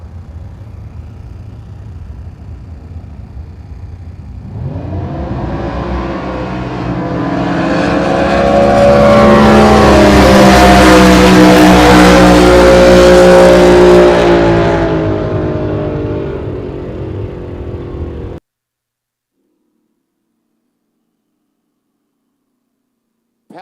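Mako Chevy 500 fuel dragster from Orangevale, California, launching at a drag strip: a roaring engine that swells to a loud, harsh peak as it tears down the track, then cuts off abruptly.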